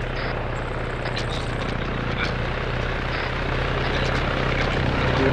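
Steady rotor and engine drone of a helicopter in the Arma 3 military game, a continuous loud hum that swells slightly toward the end, with no voices over it.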